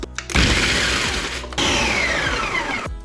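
A food processor crushes biscuits into crumbs in two loud whirring bursts, each about a second and a half long, separated by a brief pause and heard close up.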